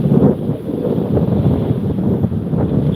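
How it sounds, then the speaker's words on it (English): Strong gusting wind outdoors among blowing trees, buffeting the microphone with loud, continuous low rumbling that swells and dips for a few seconds, no voices heard. "it's so windy"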